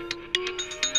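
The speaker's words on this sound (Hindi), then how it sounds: "देखिए फोन बज रहा है" Mobile phone ringtone ringing in a Hindi film scene, a bright electronic melody of short rhythmic chirping notes over a sustained tone, fairly loud and close with no talk over it.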